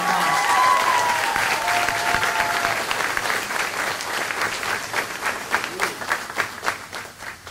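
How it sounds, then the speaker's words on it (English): A crowd at a perfect-attendance car giveaway breaks into applause, heavy at first under a brief voice, then thinning into fewer, distinct individual claps near the end. "Let's give her a round of applause"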